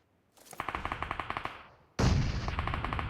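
Gunfire in the PUBG Mobile battle royale game: a rapid automatic burst of about a dozen sharp shots, followed by a louder, dense roar of fire, close and loud.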